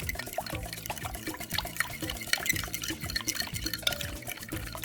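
Meal-prep mixture being stirred and mixed in a bowl, a steady stretch of wet, sloshing stirring with small clicks and drips, close and fairly quiet, with no talk over it.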